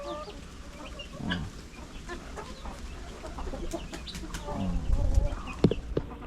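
Darag native chickens cluck and murmur in a farmyard pen, sounding close and steady, with a few sharper calls near the end.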